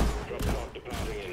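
Rapid machine gun fire in the co-op shooter Deep Rock Galactic, loud dense bursts with brief gaps, mixed with a player's voice.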